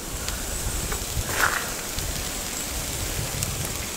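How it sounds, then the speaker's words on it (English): Steady rain falls outdoors near a field, a dense close patter on leaves and surfaces that continues evenly without pause and carries no voices. "Oh, there's the rain started."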